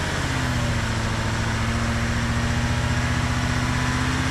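Rough-running Range Rover engine held steady at about 2000 RPM, a loud continuous drone with a steady low hum and an even pulsing rhythm, close up and with no voices.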